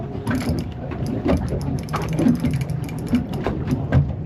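A fishing reel's ratchet clicks steadily and rapidly while a fish is reeled in from a boat on the water, a continuous mechanical chatter close by with no talking over it.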